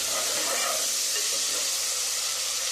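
Chopped onion sautéing in hot oil for a home-cooked lunch, giving a steady, close, even sizzle and hiss that runs unbroken for the whole stretch with no voices.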